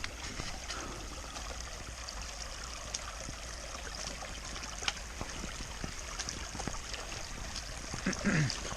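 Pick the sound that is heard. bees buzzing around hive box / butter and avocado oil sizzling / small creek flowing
small creek flowing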